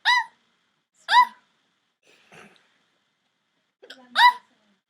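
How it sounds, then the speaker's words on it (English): Four sharp, squeaky hiccups, each a brief high-pitched yelp, are spaced about a second apart with a faint breathy sound between them, close up and otherwise quiet. "I have hiccups"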